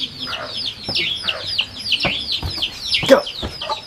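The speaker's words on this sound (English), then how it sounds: "I'm being invaded by baby chicks right now" Baby chicks peep and cluck close by in a busy run of short, high chirps, overlapping and repeating, with a louder burst near the end.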